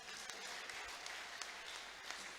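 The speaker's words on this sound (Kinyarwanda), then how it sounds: "nimwongere mumumpera amashyi." Audience at a church service clapping together in a steady, dense burst of applause, moderately loud and continuous with no pause.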